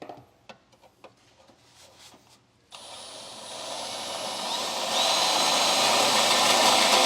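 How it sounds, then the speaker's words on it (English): A burr bit enlarges a hole in the frame during a trailer hitch receiver install on a 2023 GMC Terrain, starting after a few light clicks and taps as a steady, rising high-pitched grinding whir. "Now to enlarge it, I'm going to be using a burr bit"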